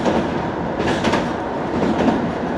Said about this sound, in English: So it's just one stop down the limited express.